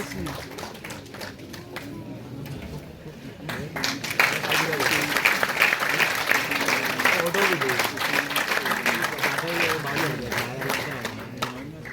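Audience applause at an international physical education conference, scattered claps that thicken into a loud sustained round of clapping, with talk and crowd noise mixed in.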